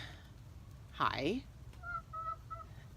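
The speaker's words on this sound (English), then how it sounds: "She's walking around all puffed up like a crazy chicken." A broody hen, puffed up and walking about, lets out one loud, drawn-out squawking call close by, followed by a few softer short clucks.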